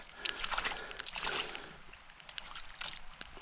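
Water sloshing and trickling as it drains from a flooded fossil dig in Germany, close and fairly faint, with uneven splashy bursts and no talk.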